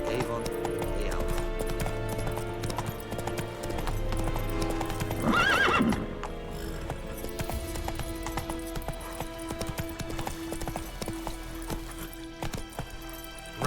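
Roach, Geralt's horse in The Witcher 3: Wild Hunt, gallops with steady clip-clop hoofbeats over game music, a loud whinny rising near the middle before the running hooves carry on.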